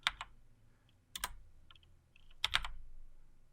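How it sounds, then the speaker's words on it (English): A few quick bursts of keyboard typing, clicky keystrokes in short clusters separated by brief pauses, close and fairly quiet. "remember the trick of clicking into something and typing your number"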